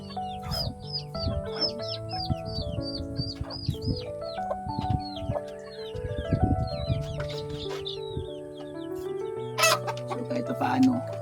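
Chickens cluck repeatedly in a lively barnyard chorus where hens are laying, with short rising calls overlapping throughout and a brief louder squawk near the end.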